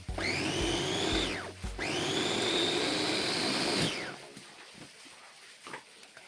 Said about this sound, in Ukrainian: Перебиваю кріп у блендері